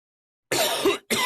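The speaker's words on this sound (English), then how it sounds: "Sorry, I did Solid Snake voice, and so I had to cough" A single raspy cough with a throat-clearing edge, close and alone after a brief silence, then a short second burst, following an impression of Solid Snake's gravelly voice.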